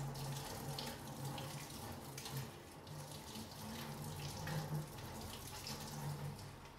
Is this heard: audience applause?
no